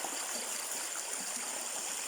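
Clear stream water flowing steadily in a countryside creek near a cornfield, a soft continuous trickling hiss that stays even and fairly faint throughout.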